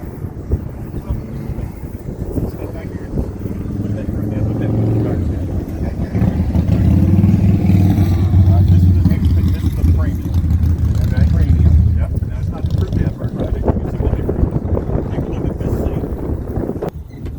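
A Can-Am off-road vehicle drives along, its engine and wind rumbling steadily and close for the whole stretch, louder in the middle, with people talking over it.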